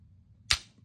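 A single sharp, close click from the trigger reset of a Johnny Glock Vex aftermarket trigger fitted in a Glock 45 pistol, heard alone against near silence.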